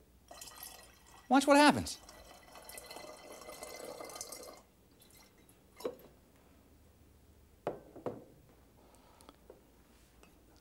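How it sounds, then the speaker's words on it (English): Water poured into another liquid in a glass, a brief splashing pour followed by a few scattered drips and small clinks, with a person speaking softly around it. "If I pour water into this liquid"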